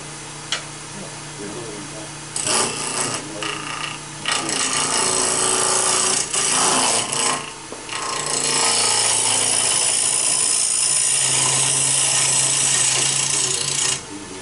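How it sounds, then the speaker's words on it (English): A negative-rake scraper on a wood lathe cuts a dovetail recess into a squarish turned bowl, giving a sustained scraping, rubbing drone with uneven bursts, and voices talk at times over it. "I'll put that dovetail in with the negative rate scraper"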